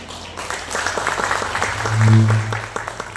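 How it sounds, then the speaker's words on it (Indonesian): Applause from the crowd at a content creators' gathering in Pontianak, a busy wash of clapping with a low hum swelling briefly in the middle and a voice faintly underneath. "Tepuk tangan yang paling meriah untuk Ibu Karin dong."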